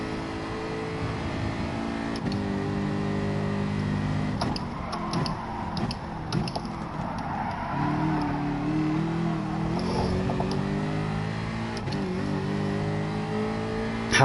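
A Jaguar race car in Gran Turismo Sport drones continuously, its engine pitch climbing and dropping through gear changes as it brakes and accelerates around corners, loud and close throughout.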